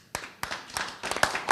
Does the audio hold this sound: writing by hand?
no